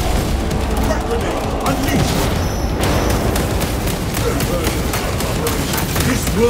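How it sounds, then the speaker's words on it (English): Crack grenade blasts in Warhammer 40,000 Space Marine 2 boom amid a dense, continuous din of gunfire and battle noise, with voices calling out over the chaos. "Crack grenade!"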